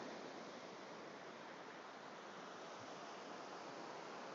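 A small Lake District waterfall spilling over rocks on a fell, a steady broadband rush of falling water that stays constant and fairly close throughout, with no voices.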